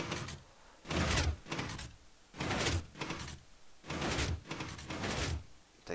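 Minecraft elevator doors open and close in a run of about five loud, broadband sliding swishes with short gaps between them, irregularly spaced, and no voices.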